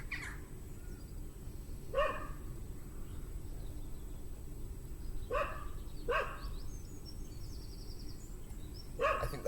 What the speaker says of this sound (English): I think that dog wants to be in the video